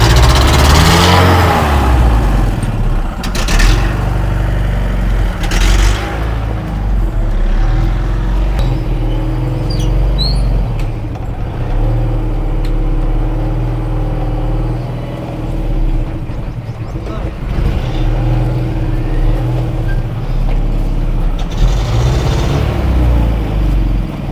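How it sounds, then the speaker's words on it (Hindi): A four-wheeler car is driven around nearby, its engine humming loudly and steadily with occasional revs and shifts in pitch as it moves. "थोड़ा सा गाड़ी घुमा के लाइए"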